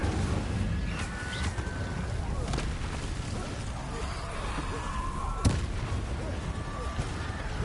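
An Incendio fire spell bursts amid combat in Hogwarts Legacy, a couple of crackling blasts and a sharp bang among rumbling game effects, with a voice calling out spells over the action.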